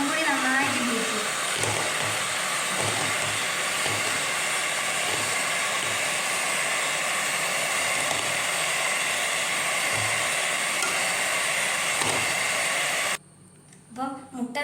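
Electric beater whirring steadily through eggs for a cake, a loud continuous buzz that runs unbroken for most of the stretch before cutting off near the end.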